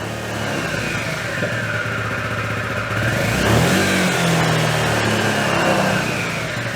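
A small moped engine idles roughly, then the throttle is twisted and the motor revs up with a rising buzzy whine before easing back.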